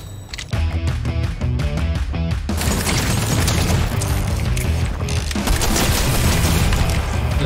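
Marksman rifle firing in a video game, a few sharp shots followed by dense, loud, sustained booming and blasts that fill the whole stretch with heavy noise.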